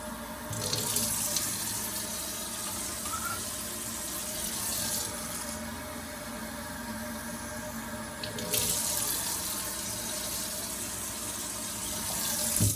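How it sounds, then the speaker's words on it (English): Water poured into a mixture for a lentil mushroom burger, a steady running splash with surges and lulls throughout, close and loud with no talking. "So let's go ahead and add in some of this water."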